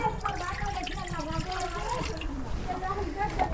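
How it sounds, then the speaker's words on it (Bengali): Water poured into a wok on a village stove, a steady close splashing and trickling pour that runs continuously, with someone talking over it. "এখন পানি দিয়ে দেবো"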